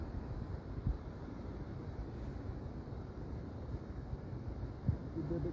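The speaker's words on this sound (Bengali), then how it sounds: "আপনারা পানির শব্দ শুনতে পাচ্ছেন" Floodwater rushes across the Moulvibazar–Kulaura road at night, a faint, continuous low roar of moving water with no break from start to finish.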